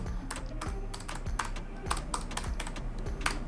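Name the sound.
typing on a mechanical-style keyboard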